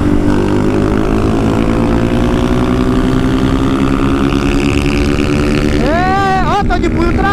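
A modified Honda Start 160 motorcycle with a 16-tooth pinion, upgraded cam and no air filter revs with the throttle held open, a loud steady drone whose pitch climbs slowly, then drops and wavers near the end, with a voice talking over it.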